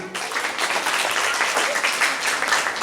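Applause from an audience welcoming a teacher at a Guru Purnima celebration in a coaching class, a dense, steady burst of many hands clapping together, fairly loud and close.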